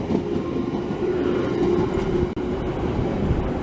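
A Chiltern train rolls through Kilburn station in London with a steady loud rumble and rail noise, plus a brief sharp clunk partway through, and no voices.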